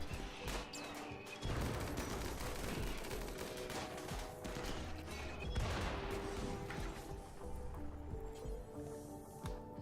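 Gunfire in the colony game Rimworld, aimed at a centipede: rapid rattling bursts and scattered shots over about ten seconds, moderately quiet and steady, with a brief pause near the start.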